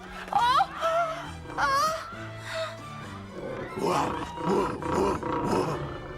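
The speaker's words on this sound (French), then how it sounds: "Derrière ces rugissements, j'ai reconnu les aboiements de Bellus" An animated lion roars in a Cinderella cartoon, giving several drawn-out, wavering roars with rising and falling pitch, loud and close, layered over orchestral music.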